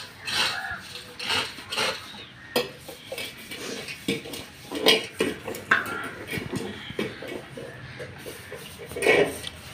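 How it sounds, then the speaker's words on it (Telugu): Pots, pans and cutlery are scrubbed and washed by hand at home, making irregular clinks, scrapes and metallic clatters close by, with brief knocks of metal against metal. "అమ్మ గిన్నెలు తోముతుంది ఇక్కడ."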